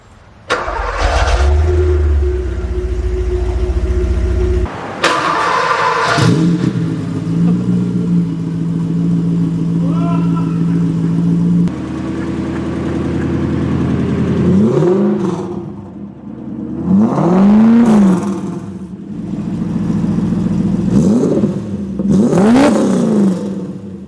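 A Porsche 928 with racing headers and a custom exhaust cranks and starts on a dyno, then its loud V8 idles and revs hard several times, barking rises and falls close by, no talking.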